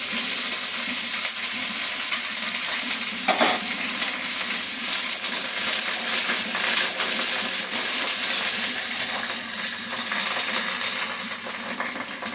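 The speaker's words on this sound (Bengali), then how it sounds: "এখন দিয়ে দিচ্ছি সর্ষে ফোড়নটা, সঙ্গে সঙ্গে কারি পাতাটা দিয়ে দেবো" Mustard seeds and curry leaves sizzle and crackle in hot oil, a dense, bright spattering that holds steady and loud, with a few sharp pops, easing slightly near the end.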